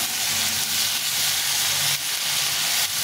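Tomato and potato fry in a pan with a steady, dense sizzle and hiss that continues without a break, close and fairly loud, with no talking.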